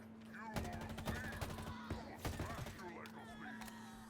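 Rapid gunfire from the Halo Infinite campaign, a string of sharp repeated shots in bursts at close range, with a steady hum and game sounds underneath.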